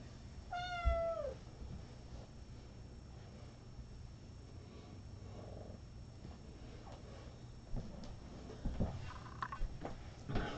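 A kitten gives one clear, close meow early on, followed by soft purring and small rustling movements in a quiet room.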